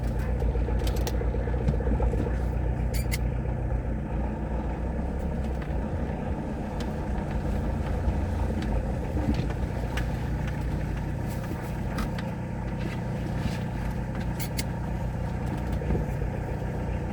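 A Citroën BX TZD turbo diesel engine idles steadily after being restarted, a loud, continuous rough rumble with faint ticking mechanical noises throughout and no speech.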